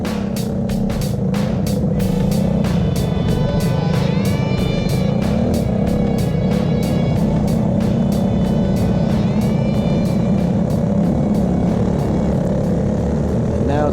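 Go-kart engines race in a light clone heat at the I-44 Winter Shootout, a continuous loud buzzing drone of several karts with rising and falling revs passing near and far, with no talk.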